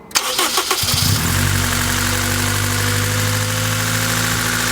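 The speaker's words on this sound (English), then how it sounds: "the engine just sounds like a diesel now. It's definitely got this weird transit van kind of ticking." A tuned Honda Civic Type R EP3 engine cranks and catches, then settles into a close, loud idle with a rattly, diesel-like ticking running through it; no voices.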